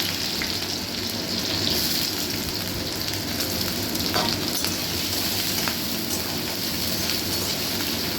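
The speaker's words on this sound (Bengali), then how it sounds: "এবার এগুলো ভেজে নেব" Small pieces of watermelon rind, green skin removed, frying in mustard oil: a loud, dense, continuous crackling sizzle like heavy rain, with faint stirring taps now and then; nobody talks.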